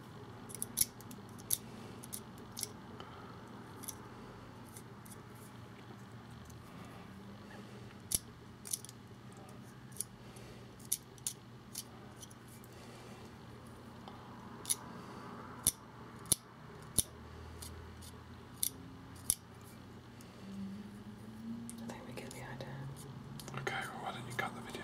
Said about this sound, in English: I'm just going to scrape away